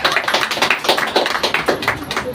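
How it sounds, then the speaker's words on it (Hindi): An indoor audience at a business income seminar applauding: dense, continuous crowd clapping, close and fairly loud, with a steady pattering rhythm throughout. "जोरदार ताली होनी चाहिए"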